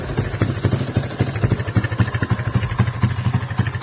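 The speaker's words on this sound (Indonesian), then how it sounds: "Nah, ini seperti suara standar knalpot FU." A Suzuki Satria FU motorcycle fitted with a 40cm AWR aftermarket exhaust idles close by, a loud, steady burbling putter with rapid uneven pulses and no talking.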